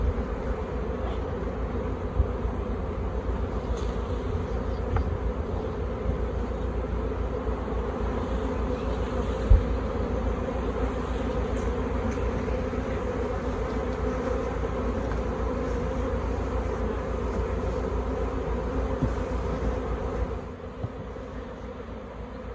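Large honeybee swarm pouring into a hive box: a continuous dense, even buzzing hum of countless bees, close and steady throughout, with no voices.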